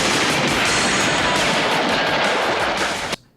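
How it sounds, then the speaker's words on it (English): Dense, loud gunfire and machine-gun bursts from the climactic battle of the 1987 action movie Nightforce, a continuous rattling barrage that cuts off abruptly at the end. "Gunfire."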